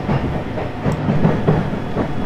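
A train runs on rails near Toyohashi, giving a steady rumbling roar with faint rhythmic clicks of wheels on track, heard from inside and fairly close, with no talking.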